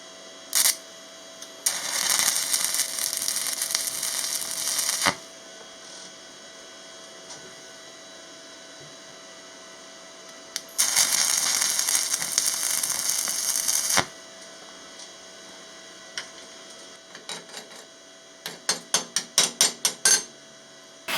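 MMA stick welder laying tack points on a clamped steel assembly, heard as two bursts of loud crackling arc sizzle of a few seconds each, then a string of short sharp crackles and clicks near the end.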